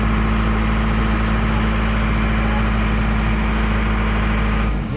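Isuzu Panther engine idling steadily and loudly up close, a constant low droning hum with no talk, dropping slightly in level at the very end.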